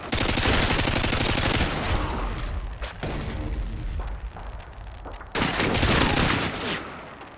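Rapid bursts of UMP submachine gun fire in a Modern Warfare 2 search-and-destroy match, loud and dense, with a pause in the middle before another burst that tails off into quieter game noise.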